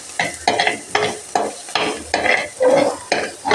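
Curry leaves and slit green chillies sauté in hot oil in a pan for a fish-head curry, crackling sizzle broken into regular bursts as they are stirred, close and loud with no talk.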